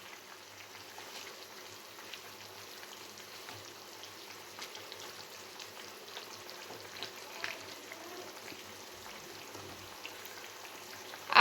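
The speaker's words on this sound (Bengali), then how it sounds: "এবার দিয়ে দেব যে মাছগুলো ভেজে রেখেছিলাম, সেই মাছগুলো এর ভিতরে দিয়ে দেব।" Fried pangas fish pieces go into a pot of boiling curry broth, giving a soft, continuous bubbling and sizzling patter with small splashes, fairly quiet and steady.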